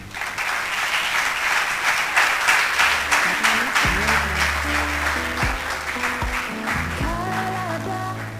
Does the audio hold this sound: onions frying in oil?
no